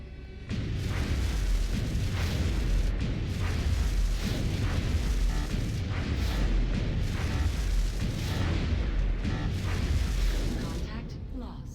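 Anti-aircraft and cannon fire from a jet fighter engaging a UFO in XCOM Enemy Within, a dense continuous barrage of loud booms and bursts rumbling throughout, with a voice talking over it.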